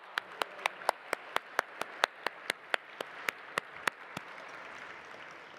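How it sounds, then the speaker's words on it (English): Rhythmic clapping at a gala, a steady evenly spaced beat of sharp claps from the audience that carries on for a few seconds and then stops, leaving a quiet room. "another round of applause,"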